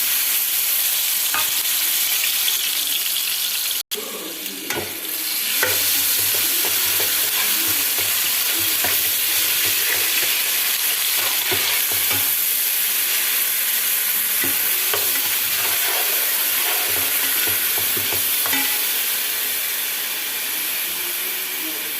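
Grated onions with turmeric and ginger paste fry in hot oil in a pan, giving a steady, loud sizzle with scraping stirs and clicks throughout and a brief gap near the start.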